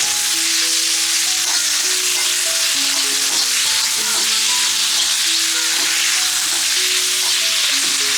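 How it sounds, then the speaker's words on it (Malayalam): Boneless chicken pieces sizzle and fry in a pan while being stirred, a steady loud hiss with occasional stirring scrapes, no voices. "ഫ്രൈ ആക്കാം"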